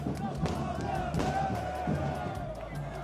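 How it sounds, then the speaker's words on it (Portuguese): São Paulo football fans celebrate as the team bus arrives, a dense crowd roaring, chanting and cheering continuously with loud bangs mixed in, while voices talk nearby. "Quando o ônibus do São Paulo deixou o CT, a torcida entrou em êxtase."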